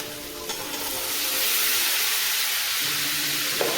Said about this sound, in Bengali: এরপর ভালো করে কষতে হবে